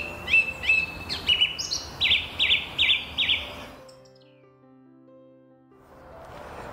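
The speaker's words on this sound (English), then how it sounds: "A song thrush's song is made up of a variety of short musical phrases repeated 2 to 4 times." A song thrush sings outdoors, loud and close: a string of short, clear musical phrases, one note group repeated several times in a quick rhythm, then a pause with faint background before the song starts again.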